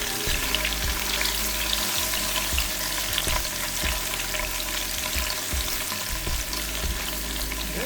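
About a tablespoon of shredded garlic fries in oil with a loud, dense sizzle and crackle, stirred now and then, close and continuous, no voices.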